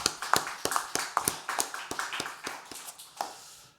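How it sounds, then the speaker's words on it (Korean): A church congregation claps together at an anniversary Sunday service, a steady rhythmic beat of hands ringing in the room and gradually fading away. "우리 박수로 하나님께 영광"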